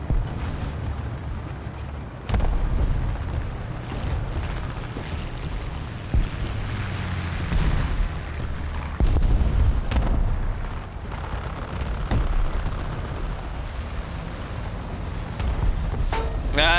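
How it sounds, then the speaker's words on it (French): Tank cannon fire in a tank video game aimed at a Crusader tank: a constant low rumble of engines and battle noise with several sharp booming blasts and bursts breaking through over about seventeen seconds. "Ok, elle tire sur le Crusader."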